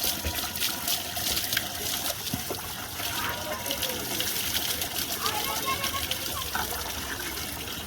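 Water pours and splashes continuously during a bath on a rooftop, a steady gushing close by. Voices talk over it throughout.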